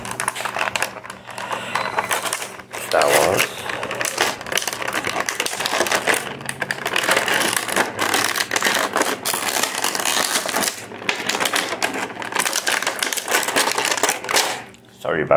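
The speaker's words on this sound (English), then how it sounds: "Sorry about the noise, I always forget these crinkly things." Crinkly plastic packaging of a Star Wars Black Series action figure being handled, a continuous crackling and rustling up close, with speech heard over it throughout.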